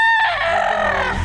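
A gamefowl rooster crows loudly and close at a market in Batangas, one long wavering call that holds, then trails off.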